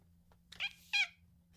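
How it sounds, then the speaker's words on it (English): Two short, bright meows from a small cartoon cat in a video game, spaced about a third of a second apart over a low steady hum, fairly quiet and with no one talking. "the little cat noise"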